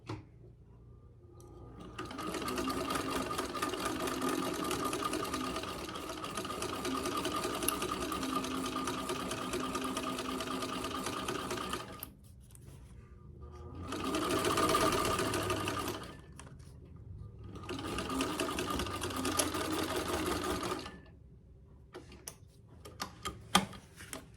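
A 1952 Singer sewing machine stitches a fabric pouch in three long runs of steady, rapid mechanical clatter, with brief quiet pauses between them and no talking.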